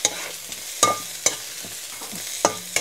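Pork adobo being sautéed in a pan with pepper added to the sauce: sharp, scattered clinks of a utensil against the pan over a faint background hiss.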